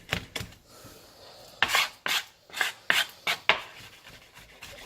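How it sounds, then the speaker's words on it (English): Raw prawns being diced very finely with a knife on a cutting board, with a run of sharp, separate chopping strikes coming close and fairly loud, spaced unevenly, and no talking. "We're gonna chop the prawns very, very, very fine."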